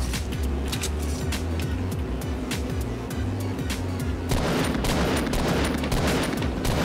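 Gunfire in the video game Fortnite, a rapid run of sharp shots over game ambience and engine-like rumble, growing denser and louder in the second half.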